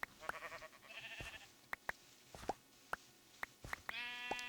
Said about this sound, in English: There's a lot of sheep around here now. They're getting pretty dang annoying.